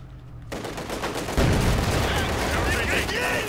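Submachine gun fire from shock troops with PPSh-41s in the strategy game Company of Heroes 2 rattles in dense bursts, growing louder after a second, with a rolling wash of battle noise throughout.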